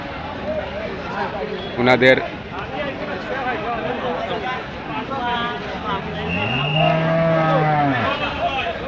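A cow moos loudly, a long drawn-out low call over the steady hubbub of a crowded cattle market at Goharpur Madrasa Bazar, Sylhet, with people talking all around.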